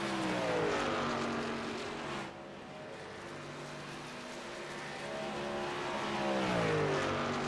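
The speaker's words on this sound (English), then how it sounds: "Matt Medler and Alex Gates, your last 3 trucks left the pit" Race trucks in the iRacing video game pull out of pit road at Chicagoland Speedway, engines droning and shifting pitch as they pass, with a dip mid-way before revving up again.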